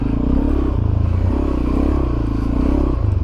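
A Suzuki DRZ400SM single-cylinder motorcycle rides a sandy trail on Rampart Range, its engine droning steadily close by with rising and falling throttle surges and a rough, pulsing note.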